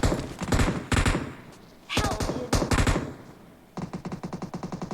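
Rapid automatic gunfire from the PUBG Mobile battle-royale game in several loud, close bursts separated by short pauses, with a final run of evenly spaced shots; faint talk sits underneath.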